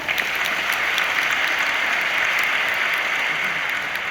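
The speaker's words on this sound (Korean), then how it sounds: "해주신 박유린 팀장님께 다시 한번 큰 박수 부탁드립니다" Steady applause from a big audience in a hall greets a team leader after her company presentation, a continuous, evenly sustained patter of many hands heard from a little distance.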